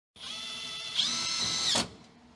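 A power drill with the wrong bit drives a screw on a budget Camaro drift car build, whirring for about a second and a half, rising in pitch briefly, then winding down and stopping; close and clear, no talking.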